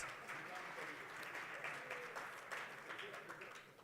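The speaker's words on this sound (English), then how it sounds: "Please give him and his panel a huge round of applause." Faint, steady applause from a conference audience at a national green hydrogen event, continuous throughout with a murmur of voices mixed in beneath the clapping.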